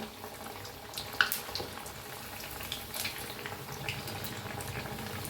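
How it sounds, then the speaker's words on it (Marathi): Sabudana vadas sizzle in hot oil, a soft steady bubbling hiss with faint crackles and pops, close and quiet throughout. "आता फिरवून घेऊया बघा किती छान तळायला लागले"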